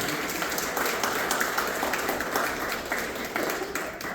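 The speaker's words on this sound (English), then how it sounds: "Clap it up for Max." An audience at a senior citizen home applauds, with a dense patter of clapping hands that rises and falls in waves over a few seconds.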